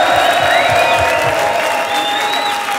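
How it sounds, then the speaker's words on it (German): A crowd at an a cappella battle event bursts into applause with cheers and whoops, loud and close, while a voice talks over it. "Applaus bitte."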